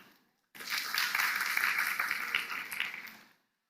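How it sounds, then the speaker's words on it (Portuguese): A church congregation bursts into applause for Pastor Luciano, a sudden wash of dense clapping that lasts about three seconds and then stops abruptly. "Palmas para o pastor Luciano."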